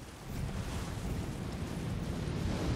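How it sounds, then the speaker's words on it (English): A roaring vortex of fire cast by a boss in the Elden Ring DLC, a steady, dense whooshing rumble that swells slightly and holds loud throughout, with no voices. "Just a vortex of fire?"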